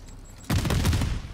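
A sudden loud burst of automatic gunfire from a Call of Duty Zombies game, shots aimed at a Mangler enemy, breaking in abruptly after a near-silent moment and rattling on steadily.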